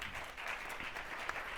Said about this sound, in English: So do give them a round of applause